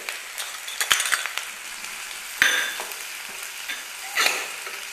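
Chopped large onions and garlic frying in oil for idly manchurian, a close, steady sizzle broken by several sharp clinks and scrapes of a stirring spoon against the pan, with no voices.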